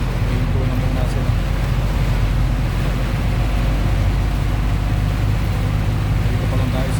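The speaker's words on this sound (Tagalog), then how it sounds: "Sobrang lakas ng ulan." Heavy rain pours down during a storm in Dubai, a steady, dense roar that fills the whole clip, with a low rumble of stalled traffic beneath it.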